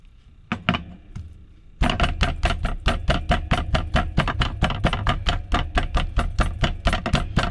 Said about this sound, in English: I've got a hammer to do this with.